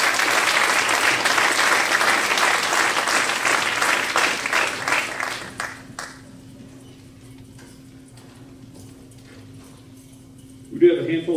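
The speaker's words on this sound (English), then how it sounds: "So let's give them a round of applause." A high school crowd at a 2018 senior awards night gives a round of applause for scholarship students. It is loud and brisk for about five seconds, then fades to a quiet room with a low hum before a voice returns.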